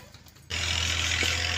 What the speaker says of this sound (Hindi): इधर ना जमीन वगैरह तो ना ट्रैक्टर चलन डे, आवाज़ भी आ रही होनी है